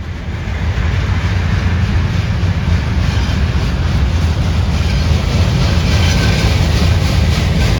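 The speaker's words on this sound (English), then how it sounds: "Later that day came this CPKC train" A CPKC freight train rolls past close by, a loud, steady rumble of wheels and cars on rail that holds for the whole stretch with no break.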